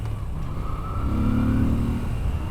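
A Moto Guzzi V7 Sport motorcycle engine droning on the move, a low steady rumble that swells slightly in the middle as the revs rise, with wind noise and no talking.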